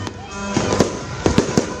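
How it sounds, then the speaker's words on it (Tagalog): New Year's fireworks go off over White Beach in Boracay, with several sharp bangs and crackles at irregular intervals over a continuous crowd-and-noise backdrop. "Hanggang sabay-sabay na nagliwanag ang kalangitan sa nagagandahan at makukulay na fireworks display."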